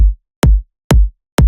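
Old kick drum sample from an electronic track, three isolated punchy hits with deep low-end decay and a bright click attack, evenly spaced and loud, with nothing else playing.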